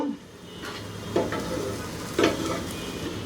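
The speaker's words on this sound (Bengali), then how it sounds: "এখন এই পেঁয়াজের মধ্যে আমি দিয়ে দিচ্ছি 3 কোয়া রসুন কুচি কুচি করে রাখছি" Chopped garlic, three cloves, goes into onions already frying in a pan, giving a soft, steady sizzle with a couple of brief stirring scrapes near the mic.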